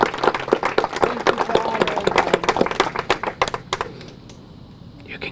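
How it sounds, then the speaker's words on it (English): An audience at a 9/11 ceremony in a library bursts into applause, dense and close at first, then thinning into scattered claps that fade out near the end. "Let's give them a round of applause."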